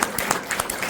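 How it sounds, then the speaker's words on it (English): A brief, fairly quiet burst of clapping from a small crowd gathered for a petition drive, with scattered distinct hand claps rather than a dense roar. "Give yourselves a round of applause for doing something"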